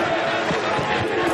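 A Chicago home crowd roars at a women's football game, a dense continuous swell of cheering with a commentator's voice over it.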